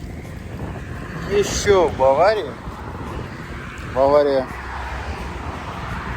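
Wind buffeting the helmet microphone of a Kawasaki Z1000SX rider on the road in Bavaria, a steady low rumble and roar that runs beneath someone talking in short bursts.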